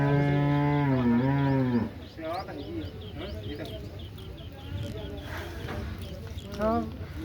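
A Nili-Ravi buffalo gives a long, loud, low moo close by at a cattle market, then people talk over faint outdoor market noise.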